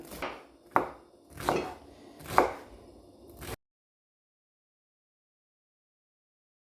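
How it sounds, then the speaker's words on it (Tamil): A knife chops through snake gourd (pudalangai) on a board in a home kitchen, four distinct close, crisp cuts spaced about a second apart, then silence. "சேம் டைம் நான் புடலங்காயை க்ளீன் பண்ணி வச்சுருக்கிற புடலங்காயை கட் பண்ண போகிறேன்"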